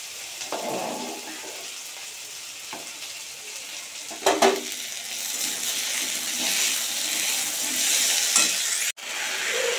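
Spices fry with potato, onion and tomato for a curry broth, sizzling steadily while a spoon stirs and scrapes the pot in bursts, including a sharp clink midway; close and fairly loud, no speech.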